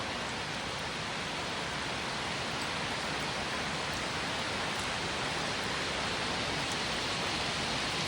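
Steady rain falling outdoors, a constant even hiss with no break and no voices.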